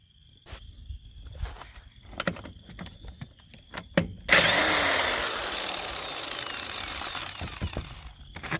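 An impact wrench takes rusty lug nuts off a wheel during a winter tire changeover, with scattered clanks and rattles early on, then a loud, sustained hammering buzz that runs to the end.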